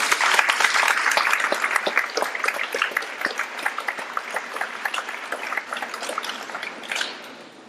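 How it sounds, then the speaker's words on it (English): Students and guests at a Veteran's Day school assembly clap together in a sustained round of applause, dense and even at first, then tapering off with scattered individual claps near the end. "Let's give him another round of applause."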